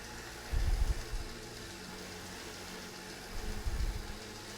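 A bicycle spinning on indoor training rollers at an easy warm-up pace, a steady mechanical whir and hum with two brief deeper rumbling surges, fairly faint and with no voices.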